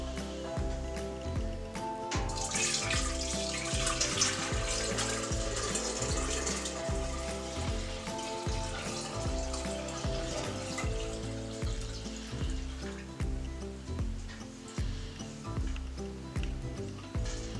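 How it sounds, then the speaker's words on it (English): Brewed tea pours through a small filter into a kombucha scoby, a steady trickling stream of liquid that runs continuously and close by, with faint clinks now and then. "So now that we got all the tea bags out, I'm going to filter it with this little filter here."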